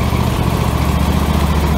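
A Husqvarna lawn mower engine runs steadily nearby, a loud, continuous buzzing drone with no pauses or changes in speed.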